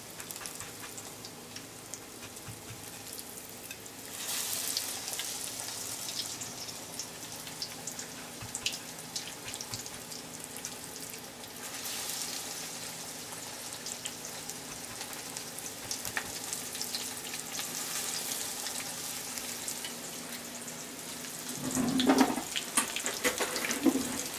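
Eggplant slices fry in a pan over moderate heat, giving a steady, close sizzle with faint clinks and stirring noises throughout, rising slightly near the end.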